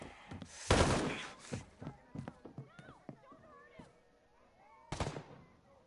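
Gunfire in the video game Ghost Recon Breakpoint, loud sharp bursts near the start and again near the end, with a voice shouting and excited talk over scattered game effects between them.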